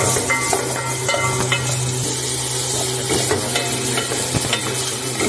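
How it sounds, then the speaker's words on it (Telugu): Onions fry and sizzle in a pan for Hyderabad-style vegetable rice, with a steady loud crackle, a spoon scraping and stirring throughout, and occasional clinks of metal on the pan. "ఉల్లిపాయలు వేసుకొని, ఉల్లిపాయలు బాగా వేగాలండి."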